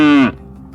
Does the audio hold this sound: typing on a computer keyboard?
no